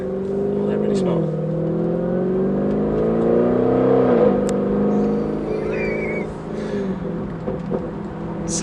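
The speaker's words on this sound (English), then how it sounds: "So the soundtrack from the back of this car at feather throttle is brilliant." A 750bhp Audi RS6 at feather throttle gives a deep, burbling exhaust note, steady and close, with gentle rises and dips in pitch as the revs shift.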